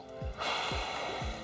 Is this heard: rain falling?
no